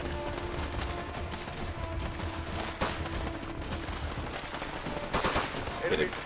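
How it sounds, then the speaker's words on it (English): Video game gunfire aimed at the player, repeated shots and bursts of automatic fire at moderate distance, with a few sharper cracks near the end, under occasional talk from a player. "I am being shot at."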